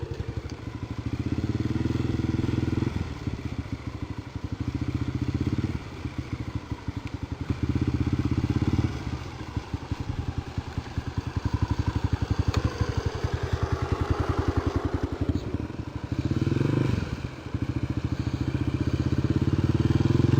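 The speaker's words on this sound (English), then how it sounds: "I'm just putting a little bit of gas in the clutch, and let it go a little bit, and pull it in." A dirt bike engine runs close by throughout, its low rumble swelling in repeated revs and easing back as the clutch is let out and pulled in, with a clattering idle between surges.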